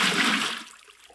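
Water being placed in Minecraft gives a brief whooshing splash that starts loud and fades out within about a second.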